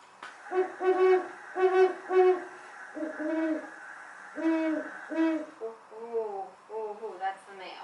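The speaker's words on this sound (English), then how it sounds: "But it's a regular hooting call." A series of deep, evenly spaced great horned owl hoots, clear and close, with several longer wavering calls toward the end and no talking.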